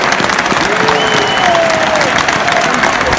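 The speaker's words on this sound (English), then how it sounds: "Massive round of applause to the Palace trainer." Steady applause from a football stadium crowd during a Crystal Palace versus Hartlepool United FA Cup match, acknowledging the Palace trainer, with dense continuous clapping and faint crowd noise throughout.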